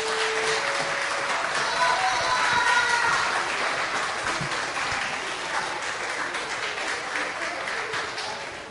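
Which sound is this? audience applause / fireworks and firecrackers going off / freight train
audience applause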